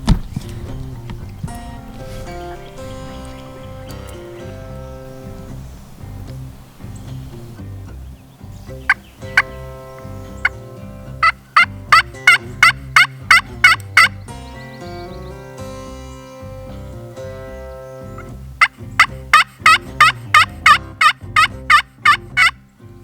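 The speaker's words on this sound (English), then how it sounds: "Gobble, isn't it?" Wild turkey gobbles during an opening-day hunt in South Carolina, heard as two loud rapid bursts of sharp rattling calls over a steady background of harmonic tones.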